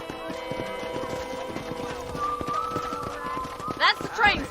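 Horse hooves clip-clop steadily in Red Dead Redemption, a rhythmic trotting beat running beneath game dialogue, with brief whistle-like tones near the end.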